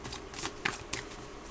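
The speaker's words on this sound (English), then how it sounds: "Let me shuffle" A deck of cards is shuffled by hand in a quiet room, with a few quick riffling bursts and two sharper snaps near the end.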